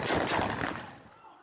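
A heavy-calibre gun fired in a public street in Ceará, heard as a loud, dense burst of rapid shots close by that fades over about a second.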